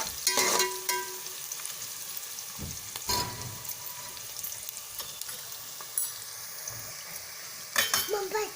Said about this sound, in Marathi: लाल लाल होईपर्यंत कांदा भाजून घ्यायचा